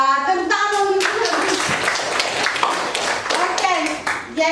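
A classroom of students claps hands, a dense burst of applause after a teacher's voice, with speech returning at the end.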